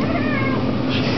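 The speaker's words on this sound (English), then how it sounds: "So if you hear any meowing, that's what's going on." A pet cat meows once, close and clear, in a drawn-out wavering call indoors.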